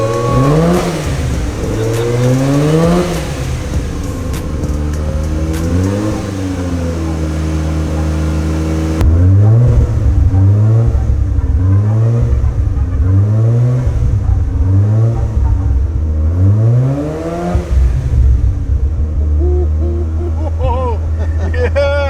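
Mazda RX7 rotary engine with a Veilside kit, revving in repeated sharp blips that climb and drop over a lumpy idle, loud and close throughout.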